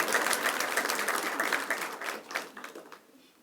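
Audience clapping at a housing partnership announcement event, a short round of applause that fades out toward the end.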